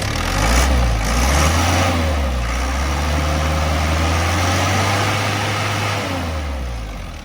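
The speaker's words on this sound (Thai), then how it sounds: "สียงเครื่องนิ่มๆด้วยนะครับ" A car engine idles smoothly and steadily at close range, a low even hum with a faint rise in pitch partway through, with no talking over it.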